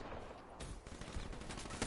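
Rapid rifle fire from an HVK in Call of Duty: Black Ops 3, a dense run of sharp, fairly loud shots crackling steadily through the whole stretch with no talk.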